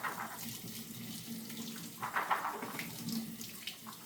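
Tap water runs steadily over soaking sprouts being rinsed on their third day, a close, continuous splashing stream with brief brighter spatters, no voices.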